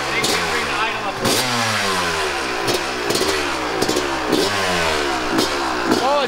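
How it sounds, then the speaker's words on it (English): A dirt bike engine idles after its idle speed has been raised, giving a steady, fairly close putter with regular pulses and small rises in pitch as people talk over it. "Thanks for bringing the idle up."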